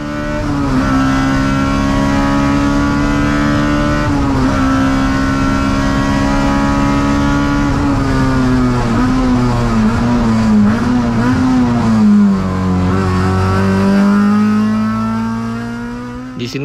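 A race car on the Sepang circuit drones loudly at sustained high revs from inside, its engine pitch rising and dipping slightly as speed changes, with a drop in pitch near the end.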